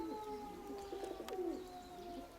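Pigeons cooing inside a loft where young squabs are kept, a few soft rolling coos close by with faint chirps, no voices.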